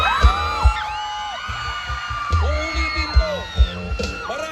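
A concert crowd shouts and whoops in repeated loud bursts, voices rising and falling together in waves, heard close and mixed with some talking.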